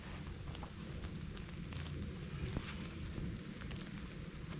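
Rain falls outdoors at the edge of the woods beside a muddy field, a faint, steady patter with scattered drops ticking close by.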